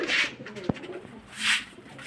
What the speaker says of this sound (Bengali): এই পায়রা দুটো কিন্তু ধরা পায়রা